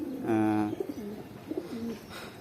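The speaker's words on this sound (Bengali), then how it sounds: "এটা পুরো আমাদের ধাড়ি পায়রার ফুল সেট আপ।" Pigeons in a loft, breeding adults with many young, give a few close, low rolling coos that start in a loud burst and then come as softer repeated phrases, with no talk.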